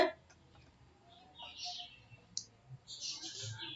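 Computer mouse clicks during keyboard settings navigation in Windows, a few quick soft clicks scattered over faint background noise, near and quiet.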